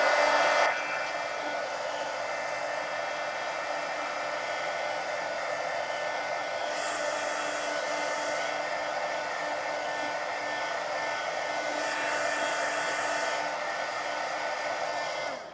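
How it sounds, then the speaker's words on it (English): A heat gun blows hot air over wet ink on a sketchbook page, giving a steady, loud, even whoosh that runs unbroken for about fifteen seconds before it cuts off. "let me hit this with the heat gun because I can still see it shiny, so the ink's not dry"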